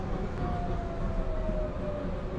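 A brown passenger train in Malaysia rolls along the rails with a steady, close rumble. A faint thin squeal rises over the rumble, and no one speaks.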